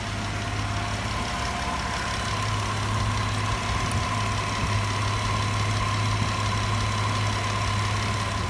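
A 2012-2018 Jeep Wrangler JK engine idles steadily just after start-up during coolant system bleeding, a constant low hum with a faint mechanical tick running evenly throughout, no talk.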